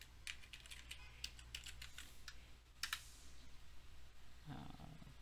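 Someone types a password on a computer keyboard: a quick burst of crisp key clicks, a short pause, then a few more taps, all close and quiet in a room with a low background hum.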